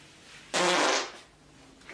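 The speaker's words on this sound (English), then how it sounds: "There is another fart." One loud, rough fart lasts about half a second and stands alone, leaving a faint room hum behind it.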